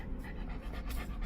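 A dog overheating on a hot day in a home without air conditioning pants steadily, with rapid, breathy, continuous panting close up and fairly loud, without talking.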